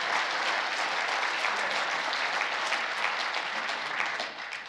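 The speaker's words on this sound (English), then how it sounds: "let's give all of them a round of applause, because they're the ones that put this together" Full room applause for conference organizers at the opening session of an international conference on World War II, dense sustained clapping that holds steady for several seconds before tapering slightly at the end.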